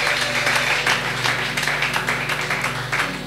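Church congregation applauding for the pastor at a French-speaking service, dense sustained clapping with a steady low hum underneath, loud and continuous throughout.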